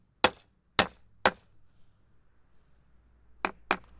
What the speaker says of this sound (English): I think I need to tap it a bit with a hammer.